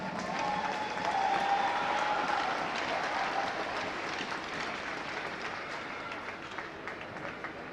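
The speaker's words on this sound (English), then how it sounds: "Let's give them all a big round of applause." A large crowd applauds at the opening of the St. Luke's Event & Sports Center arena before a season-opening game, steady sustained clapping and crowd noise filling the space throughout.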